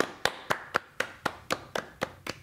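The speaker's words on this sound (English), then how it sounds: "Two dudes clapping by themselves to themselves in their office." Two people clapping alone in an office, ten crisp, evenly spaced claps at a steady rhythm, close and dry with nothing else heard.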